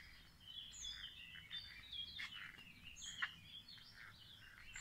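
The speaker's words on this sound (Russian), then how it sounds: "Абхазия, рассвет. Птички поют." Birds sing at dawn in Abkhazia, scattered faint chirps and tweets from a distance over a quiet background hiss.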